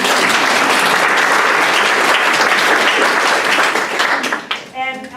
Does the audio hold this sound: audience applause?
yes